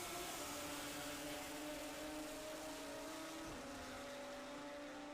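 Prototype race cars at Road America, a continuous loud engine drone with steady tonal whine holding through most of the span, a pitch shift near the end as cars pass, no talking.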